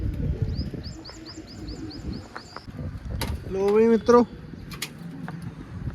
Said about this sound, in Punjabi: ਲੱਗ ਗਈਆਂ ਖਾਣ ਕਬੂਤਰੀਆਂ